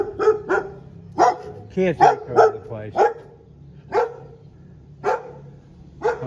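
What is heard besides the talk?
dogs barking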